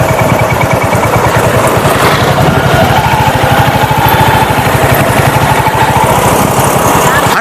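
A Royal Enfield Hunter 350 single-cylinder motorcycle rides along with a steady, loud, close thumping engine beat that runs evenly from start to finish, with wind noise and no talking.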